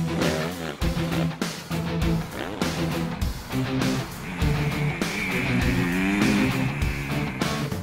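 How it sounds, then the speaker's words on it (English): Honda CRF250R motocross bikes riding on dirt, their engines revving loudly and continuously up and down close by, with rising and falling pitch as the riders work the throttle. "The bikes we got are 250 CRF Hondas, which is like absolutely ideal for this stuff."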